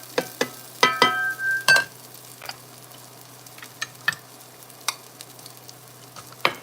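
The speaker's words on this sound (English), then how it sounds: "Cooking up these onions." Onions frying in a pan during vegan burger cooking: a faint, steady sizzle broken by sharp clicks and scraping knocks of a utensil against the pan, close by, with no speech.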